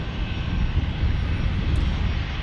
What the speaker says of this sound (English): Breeze is going to take the runway now.